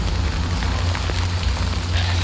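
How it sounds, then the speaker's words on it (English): Steady rain, called timefall, patters continuously on surfaces in the video game Death Stranding, a dense, even hiss with a low rumble underneath and no voices. "Good thing it was raining."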